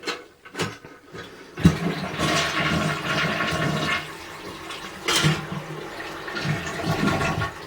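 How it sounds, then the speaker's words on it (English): A household toilet with a newly replaced handle flushes close by, a loud rushing swirl of water that surges, drains and settles into steady refilling hiss, with a brief clunk of the handle near the start. "Now we'll give it a flush."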